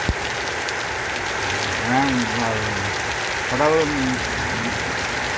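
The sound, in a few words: rain falling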